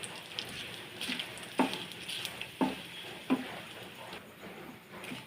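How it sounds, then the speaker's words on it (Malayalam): Chilli powder and turmeric roast in a pan with a quiet, soft sizzle, while a handful of louder stirring scrapes land at uneven intervals. "ഇത് നമുക്ക് കുറച്ച് മുളക് പൊടി ഇടാം, ഇച്ചിരി മഞ്ഞൾപ്പൊടി ഇട്ട് നമുക്കിത് ചെറുതായിട്ട് മൂപ്പിച്ചെടുക്കാം."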